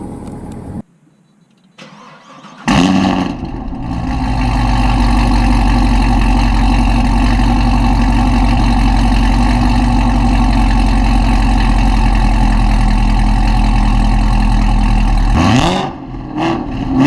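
A 2016 Cadillac CTS-V's engine starts with a sharp loud burst, then settles into a steady, deep, close idle for over ten seconds before a second blip near the end.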